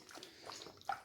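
Tap water runs during rinsing, a soft, quiet hiss and splash that continues steadily, with a small slosh near the end and no talking.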